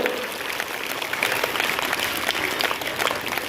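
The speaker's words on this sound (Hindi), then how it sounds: "अरे थोड़ा अच्छे तरह से ताली बजाइए" Audience clapping at a school prize distribution for writing and volleyball competitions, a steady dense patter of many hands filling the whole moment at moderate loudness.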